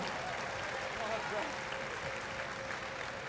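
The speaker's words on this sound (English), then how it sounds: "a huge round of applause for our competitors" A cruise ship audience aboard Allure of the Seas applauds contest competitors in a steady, dense wash of clapping that holds evenly throughout, with crowd voices mixed in.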